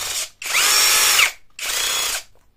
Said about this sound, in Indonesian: Masih mirip-mirip kayak bor cordless pada umumnya.